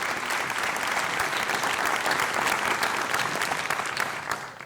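Awardees at a university awards ceremony are applauded by a seated audience, a full, steady roll of clapping that holds throughout and thins slightly at the end.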